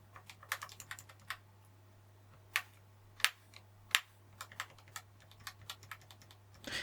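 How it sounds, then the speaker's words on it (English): Akko Haze Pink silent linear switches typed on a keyboard, producing soft, muted clicks in an irregular rhythm, quiet and close, with a few louder keystrokes and a low steady hum underneath. "Demonstration of the typing test."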